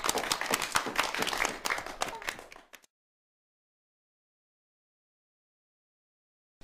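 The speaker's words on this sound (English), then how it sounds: "Well done, everyone. Give yourselves a clap." A group that has just finished singing Christmas carols claps for itself, a lively burst of applause that ends abruptly and leaves near silence.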